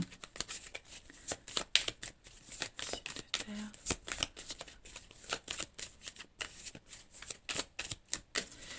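Oracle cards being shuffled by hand, a run of quick papery riffles and flicks in a steady uneven rhythm, close and fairly soft, with faint background noise and no talk over it.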